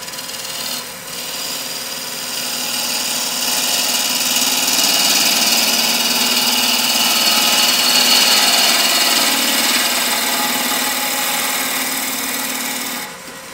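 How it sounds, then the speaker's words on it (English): A wood lathe turning a cube, running at around 1,000 RPM, gives a steady close hum while the tool rasps and scrapes continuously against the spinning corners, swelling slightly in the middle and easing near the end. "So let me crank my lathe up again, and we'll get turning on this."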